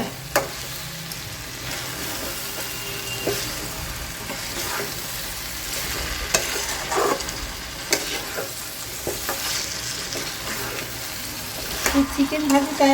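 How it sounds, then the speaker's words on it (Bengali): Fried chicken pieces are stirred in a sizzling pan, a steady frying hiss broken by repeated spatula scrapes and clacks that grow busier toward the end. "ভাজা চিকেনগুলো এবার দিয়ে দেবো।"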